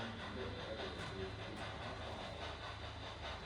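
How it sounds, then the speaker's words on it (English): A model train on a layout table rolling into its station with a continuous soft rumble and faint wheel clatter under a hissy room background, steady and low in level, with no clear voices. "you're just in time to see the train arriving at the station."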